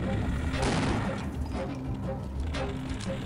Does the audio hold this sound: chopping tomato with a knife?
no